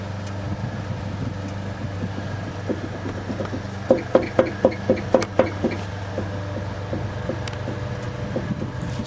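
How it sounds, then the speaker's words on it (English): Clunking from a completely worn upper control arm ball joint on a 2005 Dodge Magnum, heard as a quick series of sharp knocks over a steady low hum, loudest mid-clip and fading to lighter taps. "So we have a lot of clunk in there."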